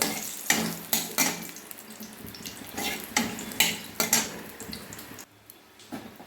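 Whole spices, cardamom, cinnamon, cloves and a bay leaf, tempering in hot oil in a wok, heard as close spoon clinks and scrapes against the metal in a loose rhythm over a faint sizzle.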